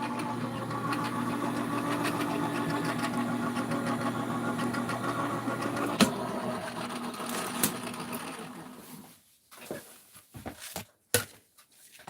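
Die-cutting and embossing machine running as it presses an Anna Griffin post box die, giving a loud, steady mechanical whirring that stops near the end and gives way to a few faint clicks and handling sounds.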